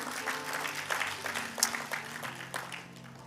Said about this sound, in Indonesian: tepuk tangan buat Tuhan yang mau berkat baru